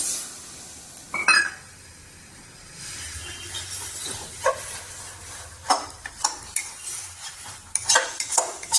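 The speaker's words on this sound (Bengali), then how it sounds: "তো মশলা ড্রাই হয়েছে, একটু আমি জল দিয়ে দিচ্ছি।" Ground spice paste in a pan for duck curry, with water poured in: a quiet sizzle, one loud splash and hiss early on, then repeated clinks and scrapes of a spoon stirring, close and without speech.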